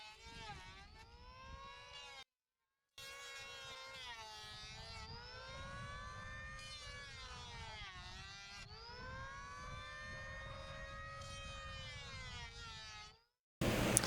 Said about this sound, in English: I cut a little bit high so I could bring it down the rest of the way with this planer